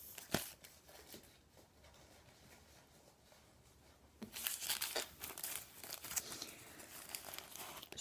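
Quiet crinkling and tearing of a resealable plastic package of Barely Theirs liners being opened, soft rustling at first, then louder crackling and peeling sounds in the second half, close up with no talk.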